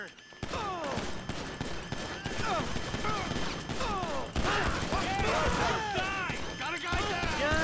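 Rapid bursts of gunfire in GTA 5, including shotgun blasts, crack repeatedly amid a chaotic firefight, loud and dense throughout, with a voice speaking over parts of it.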